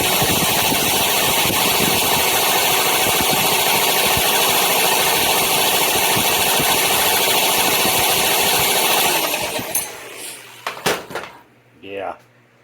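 A 1982 Honda Urban Express scooter engine buzzes hard and steady at wide-open throttle for about nine seconds, then winds down into a few rattles and knocks.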